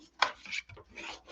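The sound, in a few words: burnishing scored paper with a bone folder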